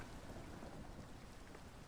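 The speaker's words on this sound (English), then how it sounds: "So that storm's moving off that way." Steady rain from a thunderstorm in the video game Minecraft, a dense continuous hiss with a deep low rumble beneath, quiet and unbroken, with no voices.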